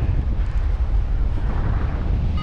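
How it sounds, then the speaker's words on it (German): Wind buffets the microphone during a paragliding flight, a loud, constant low roar and rumble with no pauses and no talk. "Ein bisschen trägt der Wind."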